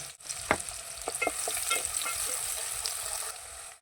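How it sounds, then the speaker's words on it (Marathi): Sliced medium onion and a bay leaf fry in a pan, giving a steady close sizzle broken by several sharp spatula taps and scrapes early on before settling into even hissing. "तो चांगला गुलाबी रंगापर्यंत आपल्याला फ्राय करून घ्यायचा आहे."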